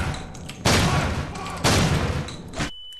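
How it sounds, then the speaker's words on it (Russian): Two heavy bursts from the video game Underhell: a grenade blast and gunfire, loud and close, each roughly a second long, then a sudden drop to near quiet. "еще и граната влетела"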